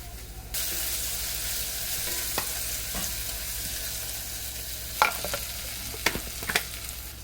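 Onions frying in a pan for a chili prawn dish, with a steady close sizzle throughout and a few sharp scraping clicks from stirring near the end.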